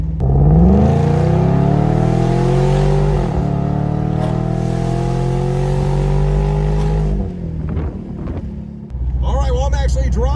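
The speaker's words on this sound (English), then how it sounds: "all the cracks and the burbles, all the wholesome goodness of this C170 engine" A Mercedes C170 engine in a convertible on fuel cutoff, a loud steady engine drone holding for about seven seconds, then dropping off into burbling and a few sharp cracks, with a voice talking over the end.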